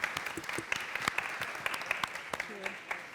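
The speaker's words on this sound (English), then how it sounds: "can we have a round of applause" A crowd at a conference panel session applauding steadily, a fairly distant wash of many hands clapping with a few sharper claps standing out.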